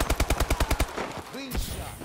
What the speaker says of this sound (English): Hostiles in the school. Sniper fire.